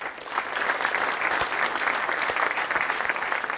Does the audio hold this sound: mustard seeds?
no